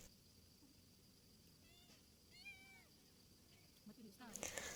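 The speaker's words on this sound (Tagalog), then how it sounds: "ang meow meow na maririnig nyo sa background" Several short, high cat meows come in a quiet room, two close together, followed by faint clatter and rustling.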